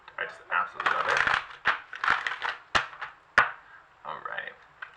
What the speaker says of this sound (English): Alright, do one more shuffle.